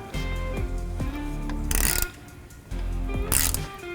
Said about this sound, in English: use this 3/8 inch socket to tighten this bolt